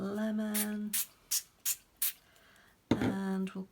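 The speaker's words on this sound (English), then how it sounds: "we're going to spray this one" Coloured ink is sprayed onto an altered book page for crafting in several short, sharp hissing bursts between stretches of nearby talk.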